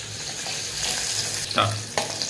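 Fish frying in a pan, a steady close sizzle and crackle with a couple of brief louder spatters, no talking.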